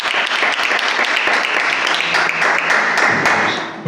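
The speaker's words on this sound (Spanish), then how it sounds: "Dele un aplauso fuerte al Señor." Congregation applauding in a Spanish-language church service, a dense, loud burst of many hands clapping together that swells and then starts to thin out.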